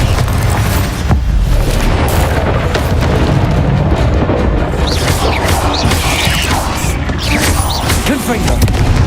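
Booming explosions from the Bombarda spell blasting enemies in the Hogwarts Legacy video game, dense crashing impacts layered over battle noise, with voices in the fight calling out.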